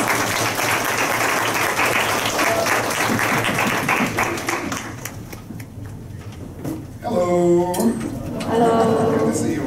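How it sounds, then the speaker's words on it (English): Audience applause at a public lecture on automation and the future of work, a dense sustained clapping that fades after several seconds as a voice begins speaking. "round of applause"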